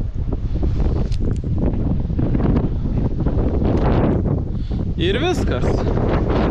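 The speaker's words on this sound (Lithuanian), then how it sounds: "nes vėjas didelis" Strong wind buffets the microphone outdoors at a building site, giving a loud, steady low roar throughout while someone talks over it.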